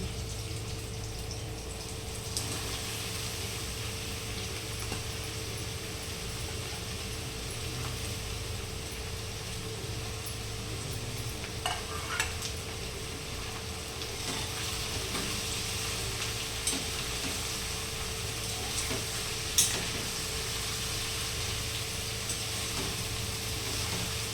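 Chopped ridge gourd sizzles in a pan with browned chilli, tomato and onion: a steady, even frying hiss with occasional soft clicks and scrapes, moderately quiet and continuous, with no talk.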